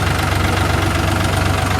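A tractor engine runs at a steady idle during soil-hauling work at Dera Baba Nanak, a continuous close, even low rumble with no breaks and no talk.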